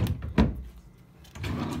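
A hotel room drawer slides open with a short wooden scrape and thump, followed by softer rummaging sounds nearby; no speech over it.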